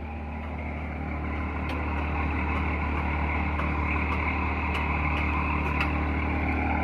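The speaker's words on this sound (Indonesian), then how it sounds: "Suara mesinnya masih halus." A Haryanto bus engine idles smoothly, producing a steady, close, low rumbling drone with a constant hum that holds unchanged throughout, with no talking over it.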